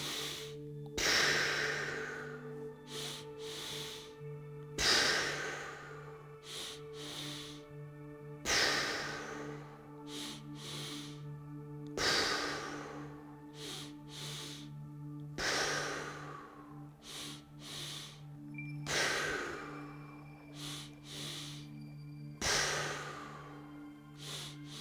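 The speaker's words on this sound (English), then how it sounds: "We're gonna do 10 sniff, sniff, poos." Seven rounds of sniff-sniff-poo breathwork repeat at a slow, steady rhythm, each with two quick sharp inhales through the nose followed by a long audible exhale, heard close against a soft sustained musical drone.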